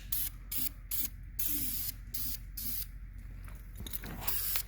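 Spray painting engine parts, including HP exhaust manifolds, in short repeated bursts of hissing aerosol spray with brief pauses between them, close and fairly loud.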